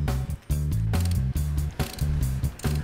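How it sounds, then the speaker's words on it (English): A 3/8-inch ratchet with a 36 mm socket on an extension, loosening the OEM oil filter housing on a car: repeated close, loud bursts of clicking strokes in steady rhythm, with no talk. "I'm using a 36 millimeter socket, a 3/8 extension, and a 3/8 ratchet."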